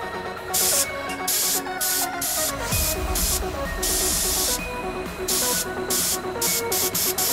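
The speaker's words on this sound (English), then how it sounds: "when I stop spraying is when the paint kind of bursts out" A paint sprayer applies paint to a skateboard in repeated hissing bursts, loud and close, stopping and starting in short irregular sprays.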